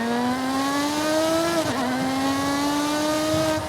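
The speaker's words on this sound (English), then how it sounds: "Now in Forza Horizon 5 you get some good sounding cars" A car engine in the racing game Forza Horizon 5 drones at a steady pitch and climbs slowly, then shifts gear with a brief dip before the tone rises again, loud and continuous with no talking.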